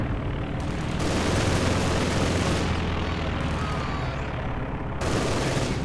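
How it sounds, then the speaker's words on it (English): An MG42 machine gun in the Company of Heroes 2 war game fires in dense continuous bursts amid booming explosions and battle din, loud and sustained throughout, with no talk over it. "the MG42 blasting away like a maniac"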